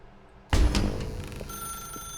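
Telephone ringing in the video game The Stanley Parable, a sudden loud electronic ring that begins abruptly and sustains with a steady high tone, heard alone without talk.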